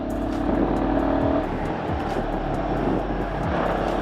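A Royal Enfield Guerrilla 450 motorcycle speeds along a road with a loud, steady engine drone and rushing wind, the pitch shifting as the throttle changes.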